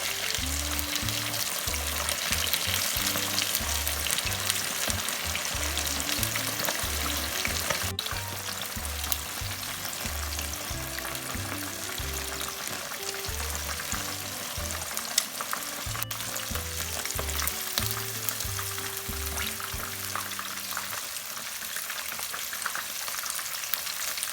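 Hat Yai fried chicken deep-fries two pieces at a time in hot oil over high heat in a small pan, giving a loud, continuous, bubbling sizzle close by with no talk.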